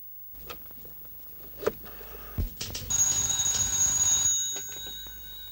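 A telephone rings indoors: a sustained, bright electric bell that starts partway through after some clatter and handling noises, then cuts off near the end.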